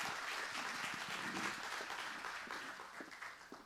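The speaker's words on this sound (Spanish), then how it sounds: "por favor un aplauso para nuestros speakers" Audience applause closes a panel session at a carbon-market forum in Peru: steady, dense clapping from a seated crowd that holds for several seconds and slowly fades, with no talk over it.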